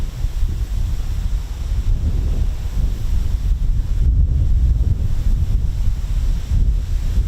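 Gusty wind, around 30 mph at an airfield, batters the microphone with continuous loud low rumbling that surges and buffets throughout, no voices present.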